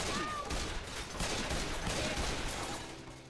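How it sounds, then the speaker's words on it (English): Dense, continuous gunfire from the video game Left 4 Dead, a loud rattling fusillade with overlapping shots throughout. "We're just shooting at each other."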